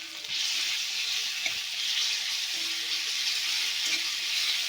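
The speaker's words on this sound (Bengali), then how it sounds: "পেঁয়াজটা একটু ভাজা ভাজা হয়ে গেছে। এবার দিয়ে দেবো রসুন বাটা আমি 1 চামচ" Garlic paste sizzles in a pan with lightly browned fried onion for a Bengali shol fish curry, giving a steady, close, even hiss with no talk.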